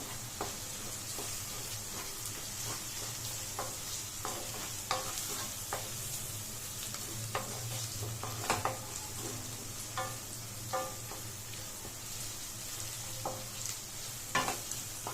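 Vegetables being stir-fried with chili powder in a pan over a low flame: a steady soft sizzle broken by frequent scraping, clinking spatula strokes, quiet and close, with no voices.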